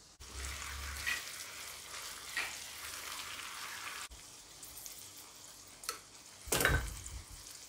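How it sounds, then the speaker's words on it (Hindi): Brinjal fries with onion and peas in a pan, giving a soft steady sizzle with occasional clinks and stirring scrapes, faint and close, with no talking. "अभी जो है बैंगन थोड़ा सा फ्राई हो चुका है"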